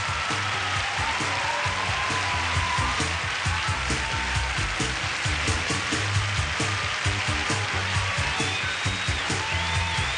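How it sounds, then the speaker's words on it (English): Sustained audience applause after the swimsuit round of the Miss Teen USA 1989 pageant, a dense steady wash of many hands clapping that fills the whole stretch at an even level, with no voice over it. "Give them all a nice round of applause."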